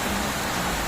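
Steady rain falls on New Year's Eve near a street grill vendor, a dense, even hiss with no breaks and no voices across the short stretch.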